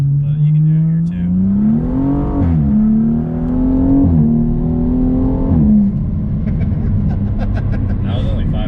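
A BMW M235i accelerates hard from inside the cabin, its engine note climbing in rising sweeps broken by quick gear changes, then settling into a steadier drone; people talk over the engine.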